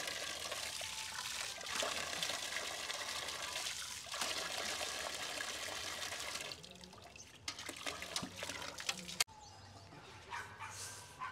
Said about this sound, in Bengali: এই জায়গাটা এখন স্নান করবো